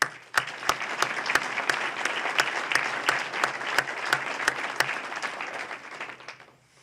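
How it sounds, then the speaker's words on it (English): An audience at a State of the Cities address claps for city employees and division directors; steady, full applause punctuated by a few sharp, regular louder claps, fading out near the end. "they deserve a round of applause"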